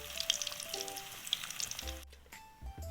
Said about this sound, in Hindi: अब हम इसके पीसों को दोबारा इसके अंदर मज़ीद फ्राई होने के लिए डालेंगे।